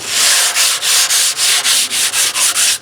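A John Deere mower deck being sanded by hand, heard as steady, loud rasping strokes in an even rhythm of about ten passes, each a broad scratchy sweep with short breaks between, close up with no talking.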